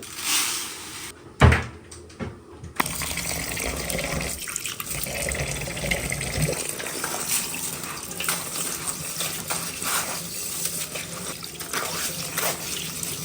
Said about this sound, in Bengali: মুরগি হতে হতে চাল আমরা ধুয়ে নেব